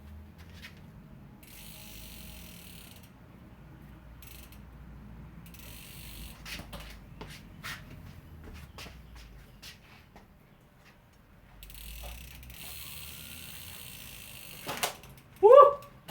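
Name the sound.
mountain bike wheel spinning with disc brake rubbing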